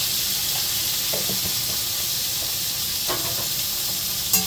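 Pointed gourd frying in a pan with a little turmeric gives a steady, close hiss of sizzling oil, with a few soft stirring clicks and scrapes scattered through it and one sharper knock near the end.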